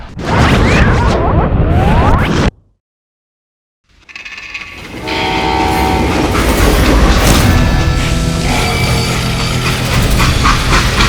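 A freight train in the Western shooter Call of Juarez: Gunslinger rumbles loudly with a roar and clatter, drops out to silence for over a second, then returns as a steady heavy running drone with tonal squeal-like lines.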